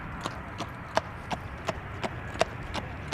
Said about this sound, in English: Also horses passing by left of me.